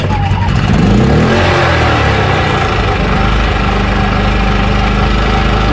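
A PowerSmart 2500 watt inverter generator starts and runs, its mid-pitched engine churning steadily and loud from close by, with a brief rising whine at the start and a voice speaking over it.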